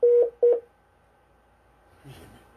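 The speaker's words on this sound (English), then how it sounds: "Now you call, your phone is doing po po." Two short electronic phone-call beeps sound close and loud in quick succession, followed by quiet background and a faint rustle near the end.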